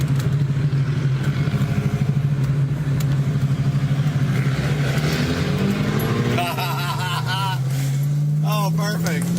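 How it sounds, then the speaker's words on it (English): A BMW with a burble tune rumbles loudly and steadily nearby, its exhaust crackling and popping with backfires while people talk over it. "Oh, that thing is like got the burble tune. You hear it backfire?"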